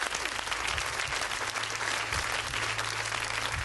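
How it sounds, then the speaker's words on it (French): A television studio audience applauds on a French game show, a loud, dense wash of clapping that is steady throughout, with a faint low hum running beneath it. "on vous applaudit déjà, bravo"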